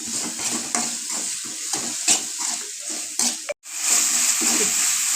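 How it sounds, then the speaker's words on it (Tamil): Tomatoes sautéing in a pan for a country-chicken fry, a steady close sizzle with rhythmic stirring scrapes, one brief break before the frying resumes louder. "தக்காளி சேர்த்திட்டு நல்லா வந்து தக்காளியை வதக்கிக்கலாம்"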